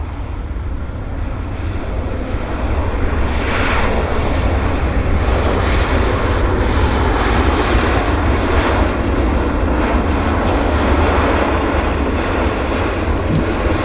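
A Flair Airlines jet touches down on runway 08 left at Vancouver's YVR airport, its engines and rollout making a loud, close, continuous roar that holds steady throughout with no voices.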